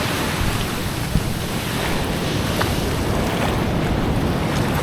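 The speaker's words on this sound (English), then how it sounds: "Wave is so big, like so big." Big waves slosh loudly against a moving boat while strong wind buffets the microphone with a constant roar.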